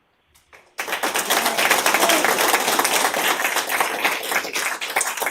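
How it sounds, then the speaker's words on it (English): Audience clapping at a city council work session, a dense burst of applause that starts abruptly after a brief quiet and then holds strong and steady, with some voices underneath. "while everybody's clapping"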